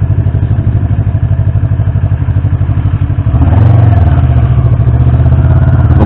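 A motorcycle engine runs with a steady, close, loud rhythmic thumping that deepens and thickens partway through as the bike uses engine braking to slow down, with no voices.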